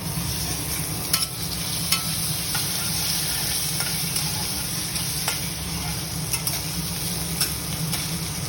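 Potatoes fry in a pan with a steady, close sizzle that runs the whole time, broken by a few light ticks and stirs of the utensil.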